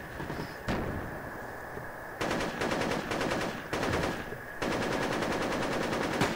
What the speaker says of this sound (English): Auto fire.